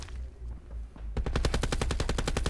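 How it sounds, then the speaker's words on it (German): Automatic gunfire in Call of Duty: Black Ops 4 on PS4 starts after a second of low rumble, then rattles on as a loud, rapid, evenly spaced burst of about fifteen shots. "Ich hab den nur in den Kopf geschossen."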